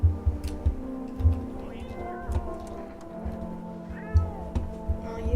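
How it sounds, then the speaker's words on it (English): A cat in a video game meows while being petted, short calls rising over a steady game music bed with soft rhythmic thumps. "You reach out and pet the cat."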